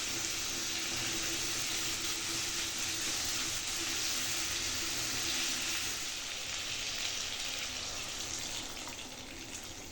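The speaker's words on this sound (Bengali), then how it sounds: "আমি জল দিয়ে দিলাম, গরম জল দিয়ে দিলাম এর মধ্যে আমি" Hot water pours into a thin potato and ridge gourd curry in the pan, making a continuous rushing, hissing splash that tapers slightly toward the end.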